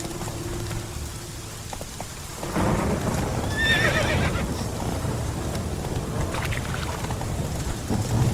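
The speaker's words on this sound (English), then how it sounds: "Whoa there, Roach." A horse in The Witcher 3 gives one sharp whinny midway while steady rain falls, with hoof and movement sounds mixed into the downpour.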